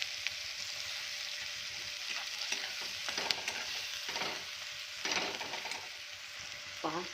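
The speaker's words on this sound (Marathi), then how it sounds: "छान असे मसाले परतून घेऊया तेलावर" Masala spices with onion and tomato sautéing in oil for egg bhurji, a steady close sizzle broken by repeated scraping stirs of a spoon against the pan, with no talk.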